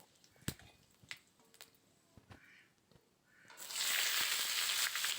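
Chopped green tomatoes drop into hot oil with frying spice tempering, and a loud, steady sizzle bursts up after a few light clinks and taps, then holds close and bright with no talk.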